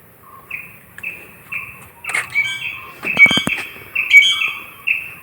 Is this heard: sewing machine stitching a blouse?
no